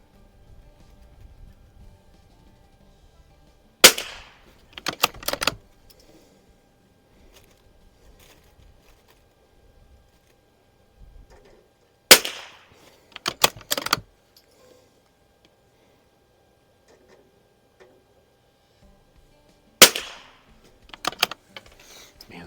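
Three clusters of sharp, close rifle cracks from an Anschutz Biathlon 1827 firing Norma ammunition at a range, each a quick pair or trio of shots with action clicks, separated by long quiet gaps.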